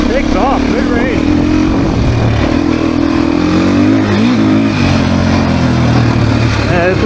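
A 2024 Beta dirt bike on a demo ride drones loudly and close, its engine pitch rising and falling as the throttle opens and closes, with a rider talking over the engine noise.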